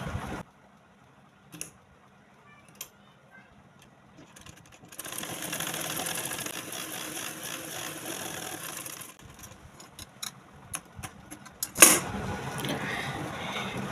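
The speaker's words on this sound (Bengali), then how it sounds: "16-তে রাখার পরে সেলাইটা করে আপনাদেরকে দেখাচ্ছি" A sewing machine set to a 16 stitch-length setting, making very short stitches, runs steadily for about four seconds after a few brief clicks, then stops with scattered mechanical ticks and resumes briefly near the end. The running is close and moderately loud, with no talking.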